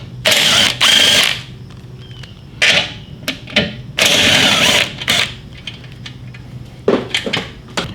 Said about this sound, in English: We got to take those 2 bolts off.